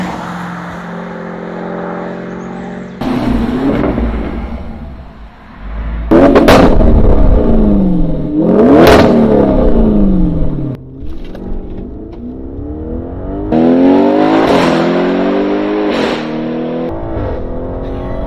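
A 750 hp Audi RS7 producing 1250 Nm roars through repeated loud, close revs and hard accelerations. Several rising engine sweeps are separated by brief lifts of the throttle. There is no talking.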